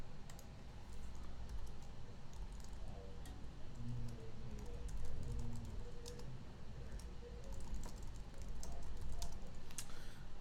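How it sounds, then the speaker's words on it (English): Steady computer keyboard typing, quiet and close, with light irregular key clicks running continuously against a faint background hum and no talking. "You can't see what I'm typing."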